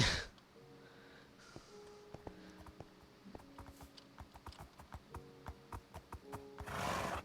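Horses in a Minecraft horse breeding pen neigh and whinny, with snorts and a rhythmic run of clip-clopping hooves between the calls, fairly close and alone without talk.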